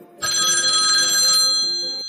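A telephone rings loud and close while a call is placed, one continuous burst of bright trilling bell tone that cuts off abruptly, with no voices.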